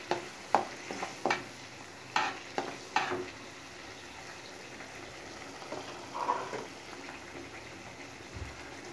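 A ground tomato and onion paste sautés in oil for a paneer gravy, with faint sizzling and a few soft spoon scrapes and taps early on, then quieter cooking noise.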